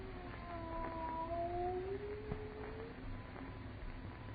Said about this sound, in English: Why, no, it's a cat.